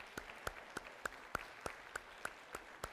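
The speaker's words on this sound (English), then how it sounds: "I just want to really applaud all of you" An audience at a live historical portrayal of First Lady Pat Nixon claps in a slow, steady rhythm, about ten sharp, evenly spaced claps close by and fairly quiet, with no talking.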